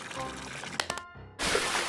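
Water is tipped from buckets into a pool in a children's cartoon lion cub scene, a short burst of pouring splash after a pause, preceded by music-like tones.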